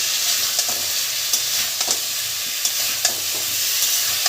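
Broccoli stir-fried with potatoes in a pan for a Bengali fish curry, a loud steady sizzle with regular light scraping strokes from a stirring spoon.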